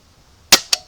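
A Bug-A-Salt salt gun fires up close, giving two quick, sharp snapping pops a fraction of a second apart in an otherwise quiet space.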